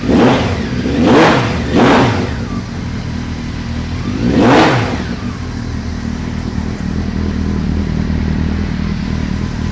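A restored carbureted motorcycle engine revs hard three times in quick bursts, loud and close, then settles into a steady, lumpy idle with no talking.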